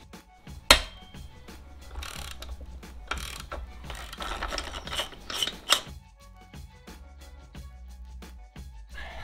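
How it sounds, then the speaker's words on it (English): Ratchet wrench clicking while a 27mm rear axle nut is loosened on a Yamaha XSR900 motorcycle, with repeated close, crisp pawl clicks in uneven bursts and a few louder metallic knocks, no talking. "At this point, we're ready to remove the rear axle nut."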